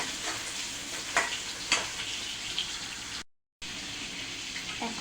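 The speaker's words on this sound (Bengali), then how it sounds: "পেঁয়াজটা একটু নরম হওয়া পর্যন্ত একটু ভেজে নেব।" Onions frying in a little oil until soft, a continuous moderate sizzle with a few sharp stirring scrapes and a brief dropout near the end, no voices.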